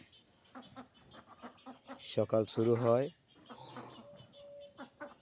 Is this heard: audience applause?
no